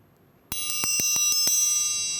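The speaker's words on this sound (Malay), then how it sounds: "Kawan-kawan, loceng dah berbunyi" A school bell starts abruptly and rings on, bright, metallic and sustained, with rapid repeated strikes over a steady tone, close and loud.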